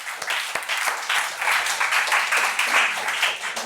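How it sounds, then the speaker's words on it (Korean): A church congregation breaks into applause, a dense, loud wash of many hands clapping that builds and holds steady for several seconds. "이건 정말 박수 칠 순간이라는 거예요."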